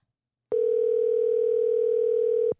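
A single steady telephone ringback tone from an unanswered call holds for about two seconds, loud and alone against silence.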